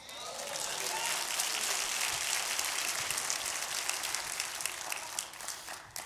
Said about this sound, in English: just give God a clap offering